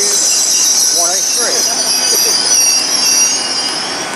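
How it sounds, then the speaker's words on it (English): A Great Western Railway passenger train rolls into Exeter St Davids station with loud, continuous rumble and high-pitched wheel squeal, brakes screeching briefly as it slows. "Arriving is the 1119 Great Western Railway service to Newquay from London Paddington"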